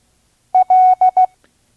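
Morse code letter L sounded as a clean, steady electronic tone: a short beep, a long dash, then two more short beeps, loud and alone against silence.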